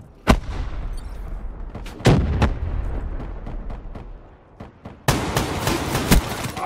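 Gunfire from the video game Black Ops 3 in a multiplayer match: sharp separate shots, then a denser burst of rapid fire near the end, loud and close over a low background rumble.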